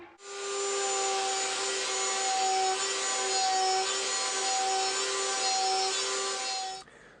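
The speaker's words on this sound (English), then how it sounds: "my pantorouter is a really awesome slot cutting machine, and I just set up a track here with 2 clamps as stops to cut that straight slot" A pantorouter cutting a straight slot in wood: a loud, steady high-pitched router whine with a rushing cutting roar, running continuously for several seconds before spinning down, close and with no speech.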